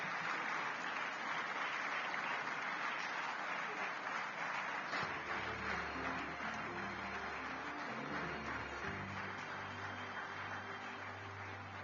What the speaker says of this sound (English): Let's continue clapping.